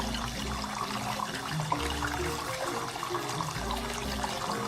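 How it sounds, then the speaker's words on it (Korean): Running water flows steadily over a friend's burn to cool it during a first-aid scenario in VR training, a soft continuous trickle and splash with no talking. "친구의 화상 부위를 흐르는 물로 식히고 있어요"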